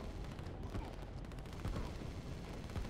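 Artillery shelling infantry in the strategy video game Line War, a dense continuous barrage of booming impacts and gunfire rumbling low and steady, with a few heavier hits standing out.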